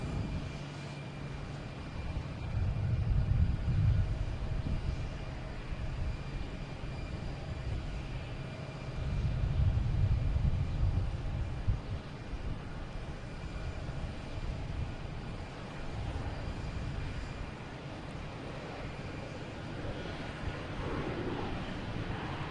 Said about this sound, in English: So we get United taking off here, heading to San Francisco, 737 MAX 9.